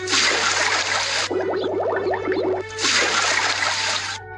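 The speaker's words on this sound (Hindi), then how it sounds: "मटके में पानी भरती है" Water gushes and splashes into a clay pot in two loud bursts, with a quieter gurgling, bubbling stretch between them.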